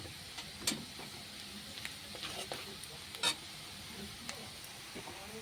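Onion frying in oil with turmeric added gives a soft, low sizzle, with intermittent scraping and tapping of a stirring utensil against the pan.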